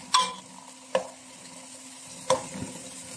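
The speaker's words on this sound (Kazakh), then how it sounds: "Алдымен бірінші біз майымызды ыстып алып, жуаны қуыратын боламыз" Onions frying in hot oil in a pan, with a steady low sizzle broken by three sharp clanks of a utensil against the pan, close and clear, no voices.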